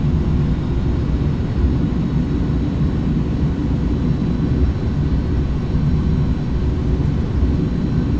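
An Airbus A310 lands in a flight simulator game with thrust reversers deployed, giving a loud, steady, low engine rumble that continues without break, with no talk over it.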